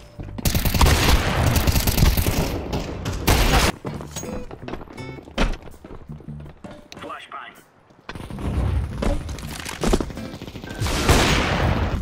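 Loud, close gunfire from a shooting video game: dense bursts of rapid shots break off into short pauses and single cracks, then come back in heavy volleys.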